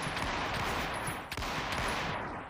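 Rapid gunfire from a video game weapon, a dense, continuous burst of shots that fills the whole stretch loudly, with a brief dip midway before the firing resumes.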